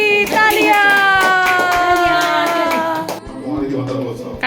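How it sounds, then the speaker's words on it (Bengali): Hands clap at an indoor birthday celebration, a run of sharp, rhythmic claps near the listener under sustained tonal voices or music, then a short pause before more clapping. "হাততালি তালিয়া।"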